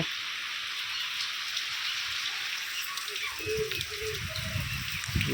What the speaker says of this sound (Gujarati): વરસાદ પડી ગયો વધારે